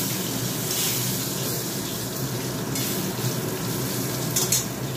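Eggplant frying in a pan in a home kitchen, a steady, close sizzle and hiss running throughout with a few brighter crackles.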